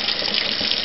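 Hot water gushes steadily and loudly from a household tap, tested after the heating element in an electric water heater was replaced; a continuous close splashing rush with no voices.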